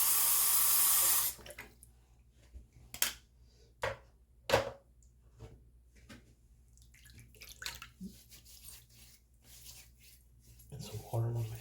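Tap water runs into a sink, then hands splash water onto a face before shaving, a few sharp close splashes and drips separated by quiet gaps, ending with another burst of running water.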